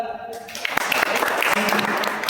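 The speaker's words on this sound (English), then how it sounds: "Clap for her." A classroom of students claps for a classmate during a lesson, a brief patter of applause, fairly quiet and a little distant, with a voice speaking at the start.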